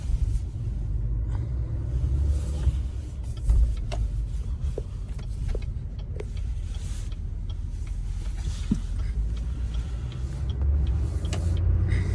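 A 2021 Chevrolet 3500 HD LTZ pickup rolls along, heard from inside the cab as a steady low road rumble with faint creaks and rattles and no talk.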